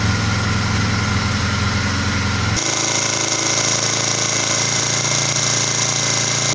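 Motorcycle engine running steadily during carburetor synchronization, a continuous close mechanical drone with a dense rattling texture that shifts slightly in tone partway through, with no talk.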